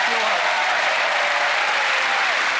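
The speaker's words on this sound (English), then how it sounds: "A nice round of applause for gentlemen." A television studio audience applauds steadily as Penn and Teller are invited onstage, a full, even wash of clapping throughout.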